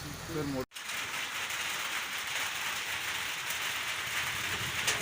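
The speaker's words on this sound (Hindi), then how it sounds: "तेज़ बारिश हो रही है" Heavy rain falling during a trip in Pakistan's Kumrat region, a steady, loud broadband hiss that runs unbroken after a brief voice and a short cut at the start.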